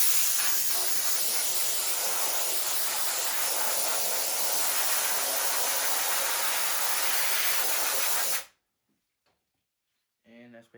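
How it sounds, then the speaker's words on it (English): Air hose blasting a screen printing screen, a loud, steady hiss for about eight seconds that stops abruptly, then a voice speaks briefly. "Now another thing I do to reduce the clogging is air hose."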